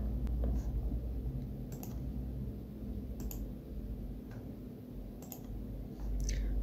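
Soft mouse clicks tap a few times at irregular intervals over a low hum from a computer, close but faint, with no voices.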